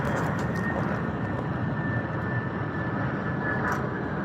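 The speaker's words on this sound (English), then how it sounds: "Got this Delta A321neo just arriving, coming in on runway 24 right." Delta A321neo jet landing on runway 24 right at LAX, a loud steady engine roar with broad rushing noise, heard from nearby.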